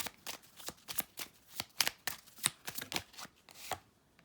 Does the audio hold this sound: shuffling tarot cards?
yes